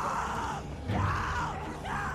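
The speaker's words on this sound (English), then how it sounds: "Just stop screaming now, please. It's very annoying." A woman screams in The Walking Dead video game, with loud, drawn-out cries rising and falling in several waves.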